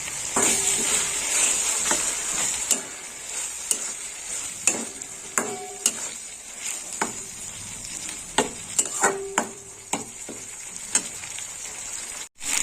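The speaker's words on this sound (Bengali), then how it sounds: "আর দিয়ে দেবো আদা আর কাঁচা লঙ্কা বাটা। আর একটু ভালো করে কষে নেবো।" Ginger and green chilli paste with garlic paste sautéed for Kachkel fish curry: a continuous bright sizzle broken by sharp, regular clinks and scrapes of a spoon against the pan, heard close up.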